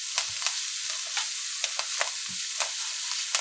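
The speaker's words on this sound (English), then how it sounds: "So this now only needs to be fried up here for about 30-45 seconds because your scallions and so on doesn't need long to be cooked." Scallions stir-frying in a pan before rice goes in: a quiet, steady sizzle with scattered scraping taps of a spatula, close and alone.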